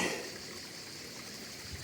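Steady waterfall in the Ardèche countryside, a constant broadband rush of falling water, moderately loud and unbroken, with no voices over it.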